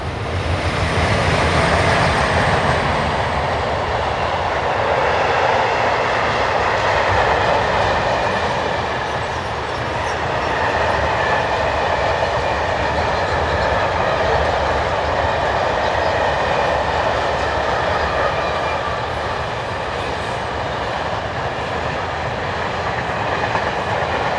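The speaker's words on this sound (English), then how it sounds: "One of the RE66 prototypes, number 11601, is paired up with 11355 on train 60780" An Swiss Re 6/6 prototype locomotive, number 11601, paired with a second electric locomotive, hauls a freight train from Basel to Lausanne Triage, making a loud, sustained rumble and roar of a passing train with faint wheel clatter and whine.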